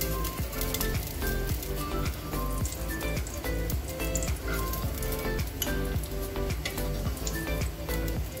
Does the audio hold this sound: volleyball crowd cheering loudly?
no